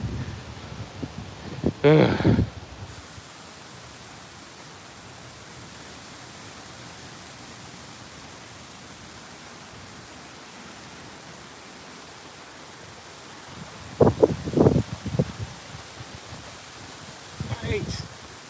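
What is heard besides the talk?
wind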